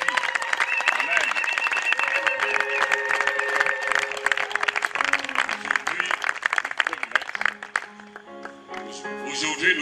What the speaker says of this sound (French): Je vous invite à vous élever pour applaudir notre Sophie.